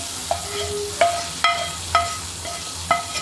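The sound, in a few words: tempering of fried onion and chilli poured into mackerel fish curry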